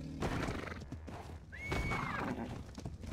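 A horse in ARK Ragnarok gives one short neigh, with a few hoof thuds and light background game noise around it.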